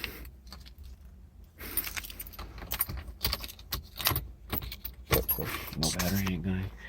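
Keys jangling repeatedly inside a 1988 Chrysler Fifth Avenue in a junkyard, sharp metallic bursts coming close and clear with voices talking over them.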